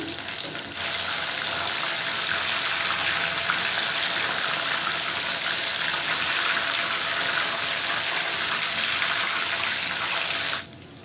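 Apple slices deep-fry in hot oil with a steady, loud, close sizzle that holds evenly for several seconds before stopping near the end.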